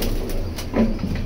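Male high flyer pigeons coo softly at home during feeding time, with one clear low coo near the middle of the clip over faint background noise.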